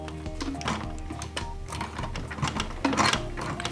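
Sewing machine stitching slowly through thick stacked layers at the raw edge of a strap connector for a crossbody bag, a steady close mechanical chatter with repeated needle thumps running throughout.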